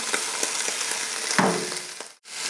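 Onions hitting a pan for beef stew, a dense close sizzle with a burst as they drop in and a brief cutoff near the end before frying resumes, no talk.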